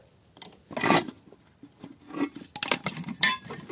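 A screw is worked loose while scrap non-ferrous metal is dismantled, producing bursts of metallic scraping, grinding and light clinks at close range.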